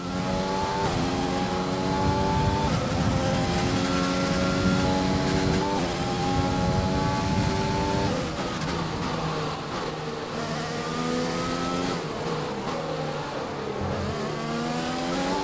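Formula One race car engine from the F1 2020 video game on a flying lap, a loud continuous high-pitched engine whine rising through the gears with repeated shift drops, steady and close throughout, no talk.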